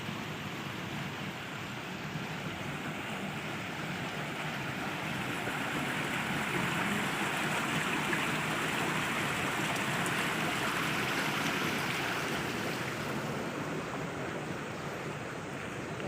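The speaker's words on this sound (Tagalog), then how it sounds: "Bumubulwak-bulwak ang tubig." Water gushing strongly through a deep irrigation channel, a dense, steady rushing roar that holds at an even level throughout, close by and with no voices.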